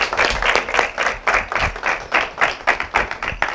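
Steady applause from a school gathering, with dense rapid clapping that swells and dips in waves, moderately close and filling the whole stretch without talk.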